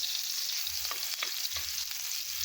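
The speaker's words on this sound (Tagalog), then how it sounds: "Lulutuin ko lang po ang bawang until mag golden brown na ito" Garlic frying in hot oil in a pan gives a soft, steady crackling sizzle with a few light stirring scrapes, fairly quiet and free of speech.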